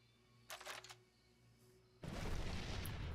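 A pipe bomb goes off in the video game Wasteland 2: a loud, sustained blast of broadband noise that follows a brief earlier burst of crackling shots, filling the last second of the clip.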